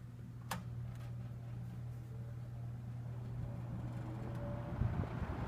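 A 1970s TG&Y Golden T box fan runs on high with a steady, low motor hum under airy rushing. A faint click sounds near the start.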